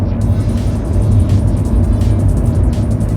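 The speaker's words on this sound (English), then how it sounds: "I'll let you listen to the car while I blast my way up the last bit before I get back home." A used Alfa Romeo 166 with a Busso V6 engine pulls hard up winding roads, its engine note loud and steady with rising revs heard from inside the cabin.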